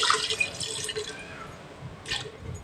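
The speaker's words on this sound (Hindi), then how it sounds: "अब इसमें पानी जाएगा, 1 गिलास मैं पानी डाल रही हूँ।" A glass of water pours into a cooking pot holding tomatoes for a potato and mutton shorba, a fairly close splashing stream that fades, with a brief second splash near the end.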